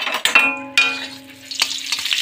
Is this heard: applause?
no